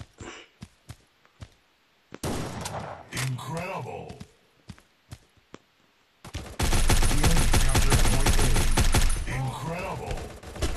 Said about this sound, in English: Oh, and I was shooting him too.